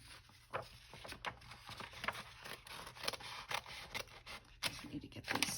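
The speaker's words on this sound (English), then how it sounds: "So sometimes it's easier to cut from the back around." Scissors cut steadily through paper while making a junk journal, a string of close, quiet snips and crunches repeating in an uneven rhythm throughout.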